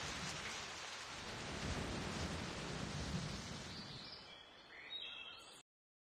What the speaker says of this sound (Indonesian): Badai sudah turun.